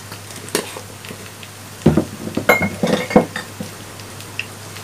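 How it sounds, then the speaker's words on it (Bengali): A spoon scrapes and clinks against a metal pot while chicken liver curry is stirred, in irregular bursts of close metallic knocks after a quiet start. No one speaks. "আবার নাড়তে থাকবো।"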